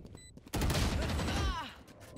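A burst of rapid gunfire from the Valorant video game, loud and dense for about a second, with voices talking faintly around it.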